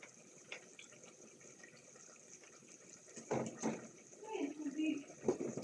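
Water runs and splashes as it overflows, a soft low trickle growing into louder gurgling bursts toward the end, quiet and close.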